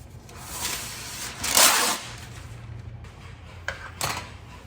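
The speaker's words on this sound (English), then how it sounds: "I'm going to go ahead and line this with some parchment paper." Parchment paper is laid into a metal sheet pan, with a loud crinkling rustle midway followed by softer sheet handling and a couple of short taps against the pan, close by with no talking.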